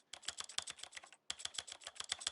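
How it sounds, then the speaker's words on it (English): Rapid, incessant clicking of a dial being turned by a joystick: dense, crisp ticks in quick irregular bursts, close and fairly loud, with a brief pause partway through before the clicking resumes at the same pace. No voices. "I don't know if you guys can hear it over the fucking incessant clicking of the dial"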